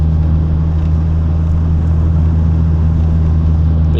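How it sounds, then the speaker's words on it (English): Droning exhaust of a 180 car while driving, a loud steady low hum with strong constant tones and road rumble, unchanging throughout with no talk. "The exhaust does get a little bit drony."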